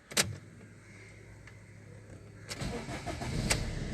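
A Fiat Linea car engine starting from rest, a short crank and catch near 0.2 s followed by a steady low idle, then a louder surge of revving with clicks toward the end, recorded up close with no talking.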